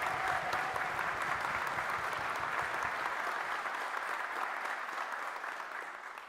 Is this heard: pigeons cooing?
no